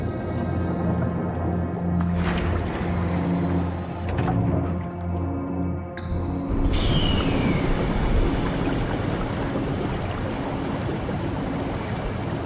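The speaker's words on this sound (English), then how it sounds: "The water's coming down." Torrent of water pouring down in the Soma video game, a steady broadband rush that thickens partway through, loud and continuous with low rumbling beneath.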